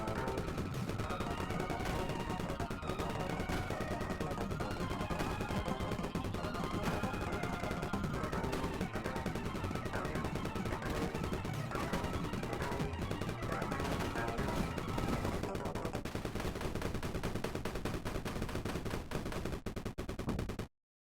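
Rapid, continuous gunfire blasting a boss at close range in Galactic Loader, steady and loud under game music for about twenty seconds without pause.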